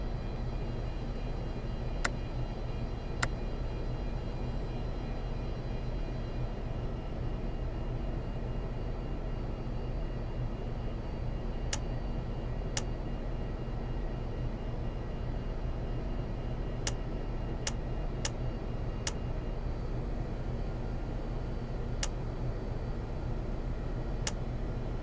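A Boeing 747-200 engine spools up in a flight simulator during start: a steady, continuous broadband whine and rumble that holds at even loudness throughout, with occasional sharp clicks.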